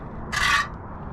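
A single short gritty scrape as an old stucco patch is taken off a parapet wall before repair, close and brief against a quiet background.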